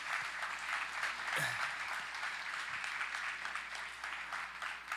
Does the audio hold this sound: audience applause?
yes